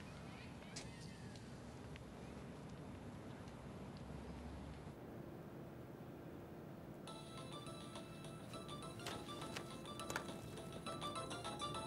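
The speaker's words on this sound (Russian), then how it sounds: "Ленке Лобов звонит." A telephone ringtone in a Russian melodrama series begins partway through and keeps repeating as a bright electronic chiming pattern over a steady low background hum until the end.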